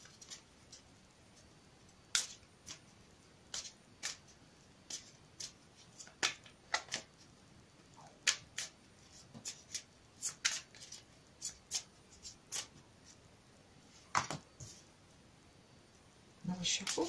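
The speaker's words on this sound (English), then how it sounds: "I'll shuffle it for you again on camera." Soft, irregular clicks and riffling snaps from a deck of cards being shuffled, close and quiet against a faint background hiss.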